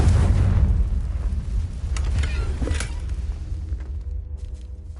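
A Confringo fire spell bursts in Hogwarts Legacy, a loud rumbling explosion that rolls on for a few seconds and then fades into quieter crackles and a dwindling tail.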